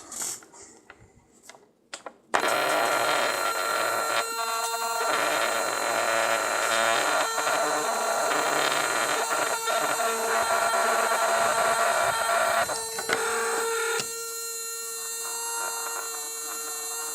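A small 3 volt electric motor powered through alligator clips, a few faint clicks and then a sudden loud high whine that runs continuously, wavering and dropping slightly in pitch toward the end.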